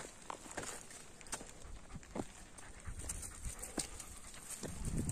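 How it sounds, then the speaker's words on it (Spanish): Hunting dogs panting and padding about close by on a hillside, with soft footsteps and scuffling, no clear barking, fairly quiet throughout. "Aquí vienen los perros"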